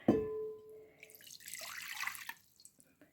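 Water is poured into a bowl for pie dough: a short ringing splash, then a soft, steady trickle that tapers off into quiet.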